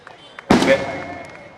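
A single firecracker bursting sharply at a Murugan temple festival, a loud close crack after a few faint ticks, with a brief ringing tail fading out.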